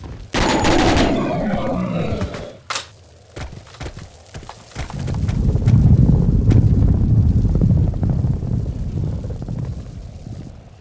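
MP5 gunfire in the Hellforces video game during a fight with an orc boss, with loud rapid bursts and scattered shots over rumbling game noise and sound effects.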